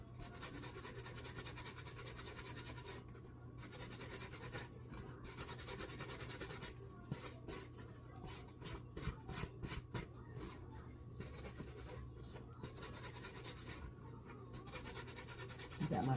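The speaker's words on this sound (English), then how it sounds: "I'm just buffing away. I'm just trying to make sure I have it smooth" Steady rubbing and rasping as a hat surface is buffed smooth by hand, a continuous dry scratchy friction with brief quicker strokes, close and fairly quiet, no talking.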